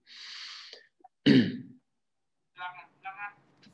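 A single forceful cough rings out in a quiet room, between a breathy rasp before it and a few short vocal sounds after.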